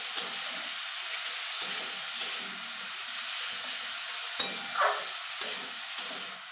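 Vegetables for a vegetable dal fry with a little salt in a pan, giving a steady soft sizzle and hiss throughout, broken by a few sharp clicks and scrapes of stirring.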